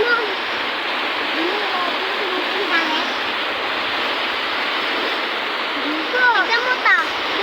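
A river overflowing its banks in Barangay Santo Niño, San Mateo, Rizal rushes with a loud, steady broadband roar of floodwater that runs unbroken throughout, and faint calls rise above it here and there.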